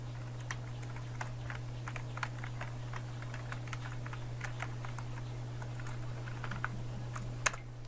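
Steady typing on a computer keyboard while writing in MS Word, with quick, light key clicks at an even rhythm over a constant low electrical hum.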